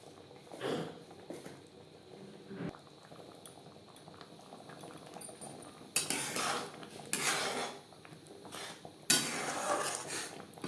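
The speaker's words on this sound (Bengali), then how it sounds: "ভাজা মশলা চাটনির সাথে বেশ ভালো করে মিক্সড করে দেবো" Raw mango chutney with roasted spices and dry-roasted chilli powder being stirred in a pan, a spoon scraping and clinking against the metal in bursts over a soft bubbling simmer, louder scraping passes near the end.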